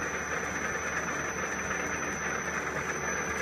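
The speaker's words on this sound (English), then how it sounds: "here it is at 25 hertz. This will be 700 RPM." A 12x36 metal lathe driven by a VFD runs at 25 hertz, about 700 RPM, giving a continuous even motor drone with a thin, steady high whine on top, heard alone.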